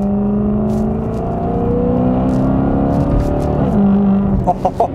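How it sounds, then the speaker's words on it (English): Maserati Quattroporte with an aftermarket exhaust revving through a 3000 RPM downshift, a loud, steady engine drone with sliding pitch that drops near the end, followed by a few short pulses. "This is 3000 RPM downshift. It's much more, well, it's definitely louder"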